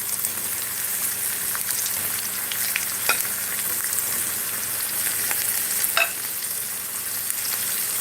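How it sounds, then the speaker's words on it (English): Breaded okra and vegetables frying in hot grease make a steady, close sizzle throughout, with scattered sharper pops and crackles, and no talking. "when you fry okra or any kind of vegetable or meat, really, the key to the breading staying on there is making sure that your grease is hot enough"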